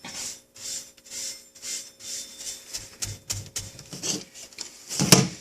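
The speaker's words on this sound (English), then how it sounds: "Spread it with the large brush. Get it all totally wet." Soft brushing strokes as wet grit is spread with a large brush across a sharpening plate, a series of gentle rubbing passes that grow busier and louder toward the end, close by and without speech.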